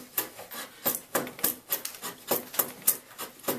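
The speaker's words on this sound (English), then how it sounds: "Now I'm just using the chisel to rough out." Chisel roughing out a rabbet in soft wood, a quick run of dry scraping, chipping strokes, roughly three or four per second, close and fairly quiet with no voices.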